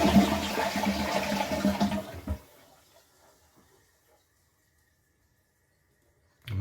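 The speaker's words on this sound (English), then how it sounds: "That was a clean flush" A newly installed toilet flushing up close, a loud rushing gurgle of water for about two seconds that drops quickly into a faint trickle and near silence, with a thud at the very end.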